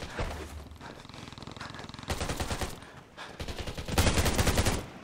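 Rapid bursts of gunfire in the multiplayer shooter game Undawn during a 4v4 PvP match, with dense overlapping shots and louder volleys toward the end.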